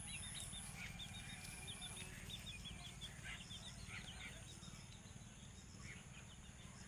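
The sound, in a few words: chickens roaming in a village yard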